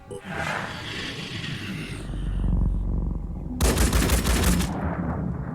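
Gunfire in the video game Phoenix Point, a dense rattling burst of automatic shots ringing loud over a low rumbling game background, then a sharp bright crackling volley near the end.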